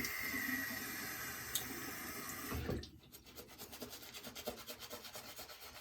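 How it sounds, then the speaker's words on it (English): A shaving brush works Wholly Kaw shaving cream into a wet lather, starting as a steady close rubbing swish, then breaking into quicker rhythmic strokes. "See, really builds up that lather again a little bit."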